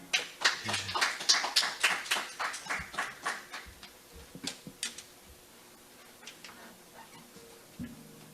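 Scattered applause from a small audience follows a song, a run of sharp claps rising and then thinning into a few isolated claps before fading to quiet.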